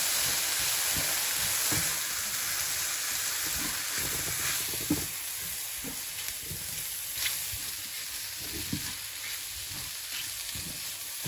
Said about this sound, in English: Now mix the flour nicely with the vegetables and the remaining fat.